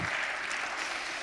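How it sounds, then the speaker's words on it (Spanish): A church congregation applauds during a sermon, a short burst of dense, fairly faint clapping from many hands heard on its own. "Dale un aplauso al Señor"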